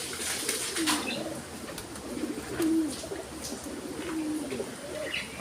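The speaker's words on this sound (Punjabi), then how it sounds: "ਆਪਣਾ ਦਾੜੀ ਵਾਲਾ ਕਬੂਤਰ" Soft, low cooing from a bearded pigeon repeats a few times over a steady background hiss, fairly close and unhurried.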